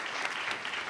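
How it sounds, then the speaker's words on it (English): Audience applause at a keynote event, a dense burst of clapping from a crowd, steady and moderately loud throughout the brief moment. "Please give them a round of applause."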